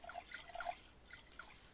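Water dripping and trickling into bottles in NEOScavenger, heard as a short run of soft, faint liquid drips and splashes with no voices.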